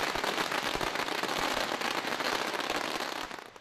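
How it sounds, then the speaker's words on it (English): Strings of firecrackers set off for Lunar New Year street celebrations, a dense, continuous crackling barrage of sharp pops at moderate distance that thins out slightly at the end. "The sound of firecrackers marked the start of the Year of the Sheep."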